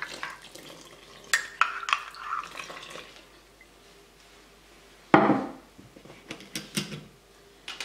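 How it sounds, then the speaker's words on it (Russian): Irregular scraping and clinking of a utensil stirring leftover bread dough starter in a glass bowl, with a louder knock partway through and quieter scrapes between. "Сейчас размешаю здесь все остатки опары"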